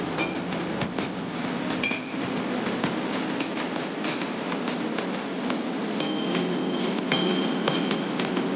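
A knife blade tip, intended for a through tang, is hammer forged amid loud, constant workshop noise, with repeated metallic hammer strikes and ringing clinks rising over a dense roar.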